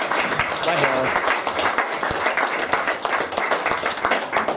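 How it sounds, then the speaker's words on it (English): Audience applause fills a crowded awards-night room for a speed championship, steady dense clapping across the whole stretch with some voices mixed in. "Round of applause for Frank Stewart."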